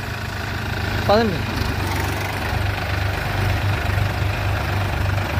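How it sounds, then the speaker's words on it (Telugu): Powertrac Euro 45 and New Holland Excel 4710 4WD tractors drive in fourth load gear, their engines giving a steady heavy low drone close by, while a person speaks briefly. "ఇప్పుడైతే ట్రాక్టర్లో వచ్చేసి లోడ్ గేరు ఫోర్త్ గేర్లో వెళ్ళబోతున్నాయి"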